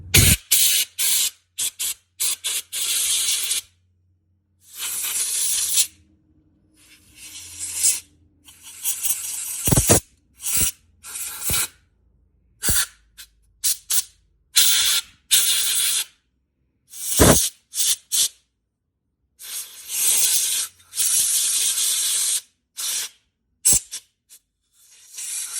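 Compressed air or spray blasts drying out a KX125 carburetor after carb cleaner: loud hissing bursts in repeated short and long spurts, close up, separated by silent gaps.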